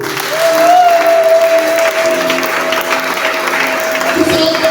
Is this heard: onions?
no